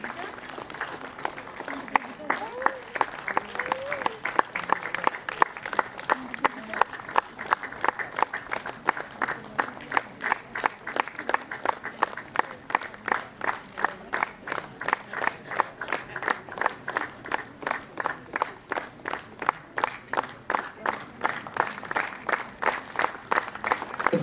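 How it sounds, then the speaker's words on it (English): A student crowd at a Zeliangrong students' union freshers' meet in Delhi claps in steady unison, a long run of evenly spaced, loud rhythmic beats, with faint voices and crowd noise underneath. "Let's be generous in clapping. Come on, louder."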